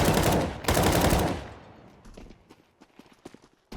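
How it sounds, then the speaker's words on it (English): Glock pistol fire from a Counter-Strike duel starts as a loud, rapid flurry of shots, then thins into scattered, fainter pops and clicks spaced irregularly over the following seconds. "And now he has duels with Glocks."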